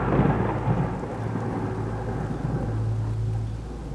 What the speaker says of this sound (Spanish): afuera la lluvia se desata sin tregua.